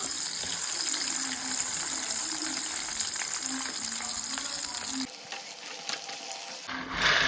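Jackfruit pieces frying in hot oil, a continuous crisp sizzle and bubbling that drops away briefly near the end before returning, close and steady with no speech.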